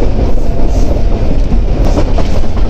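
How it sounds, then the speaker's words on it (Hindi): Freight train passing on a railway track beside a moving passenger train, a loud, close, continuous rumble with rhythmic wheel clatter over the rails and no voices. "और अप साइड पर भी एक ट्रेन आ रही है। ज़रूर ये फ्रेट ट्रेन ही होगी"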